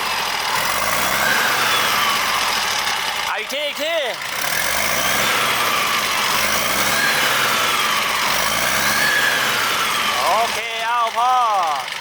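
Hino A09C truck engine, single- or twin-turbo version, running steadily and revving up near the end, with someone talking over it throughout.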